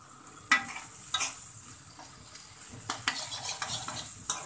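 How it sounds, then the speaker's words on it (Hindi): Potatoes and chickpeas fry on high flame for aloo chole, a steady sizzle broken by repeated sharp spatula knocks and scrapes against the pan. "बस इसको आप 5 मिनट के लिए जो है फ्राई करें तेज आंच पे"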